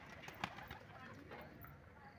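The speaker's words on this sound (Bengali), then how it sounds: "দেখো সব পায়রা আবার চলে এসেছে" Pigeons gathering indoors around nesting birds with eggs and chicks, giving soft low cooing against a steady faint background, with one brief louder burst near the start.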